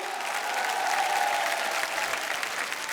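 A large audience at an international Bhojpuri stage show claps in dense, sustained applause that holds steady throughout, a broad crowd sound with no single voice standing out.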